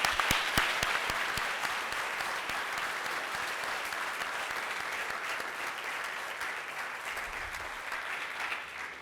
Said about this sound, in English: Let's give one more round of applause for our students.